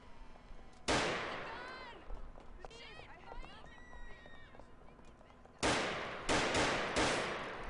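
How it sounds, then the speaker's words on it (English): A weapon fires in GTA IV: one sharp, loud shot rings out early, then after a stretch of someone talking, three more shots crack in quick succession near the end. "I'm gonna go ahead and shoot my weapon"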